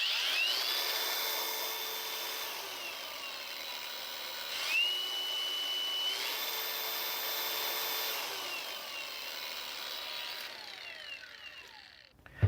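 A Steel 4-in-1 power tool kit machine running continuously with a high whining motor, its pitch shifting up and down as the speed setting is switched while it runs, then spinning down and stopping near the end.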